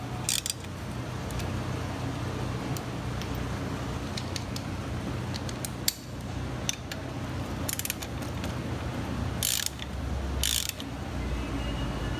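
A socket ratchet works on the fork of a 2002 Harley-Davidson Sportster during a fork seal rebuild, giving clicking mechanical bursts spaced through a steady workshop hum, close and moderately loud.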